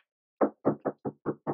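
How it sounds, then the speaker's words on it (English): Six sharp knocks on a door in quick succession, close and clear, with an uneven rhythm and no voices. "you don't have to knock once you're in the room."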